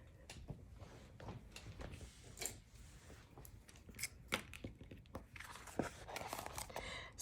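Scissors trim a scrap of paper, a quiet series of short snips and crisp rustles spaced irregularly, close by with little else around.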